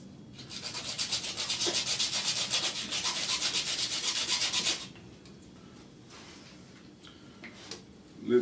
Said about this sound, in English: sand the horn down a bit.